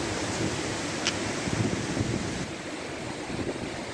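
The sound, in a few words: waterfall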